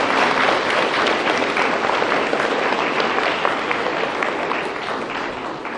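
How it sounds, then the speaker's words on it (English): A loud, dense wave of clapping fills a school assembly hall as the audience cheers the children, sustained evenly throughout with no break. "Give a big round of applause."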